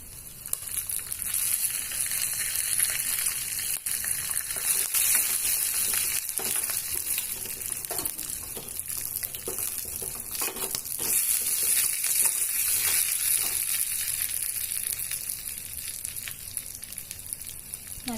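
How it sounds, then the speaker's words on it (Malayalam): Grated coconut crackles and sizzles steadily in a pan over a low flame while being stirred and roasted for chakka erissery, with a soft continuous frying hiss throughout. "തേങ്ങ ലൈറ്റ് ബ്രൗൺ കളറായി നല്ല സ്മെല്ല് വരുന്നത് വരെ നമുക്കിത് ഇളക്കി കൊടുക്കാം"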